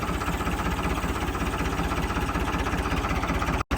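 A Ford 855 tractor engine idles with a steady, low, pulsing chug, close by and alone, cutting out for a moment near the end.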